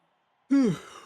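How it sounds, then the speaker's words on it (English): A man yawns once, nearby, with a loud, drawn-out voiced exhale that rises and then falls away after a moment of silence. "you can hear me yawning"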